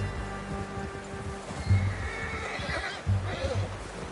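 A horse in Red Dead Redemption 2 whinnies twice in short, bright bursts amid soft hoof clip-clops and ambient game sound, fairly close.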